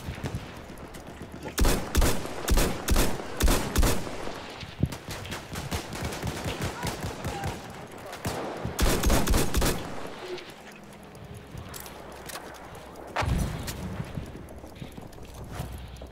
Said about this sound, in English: Aku tembak dia.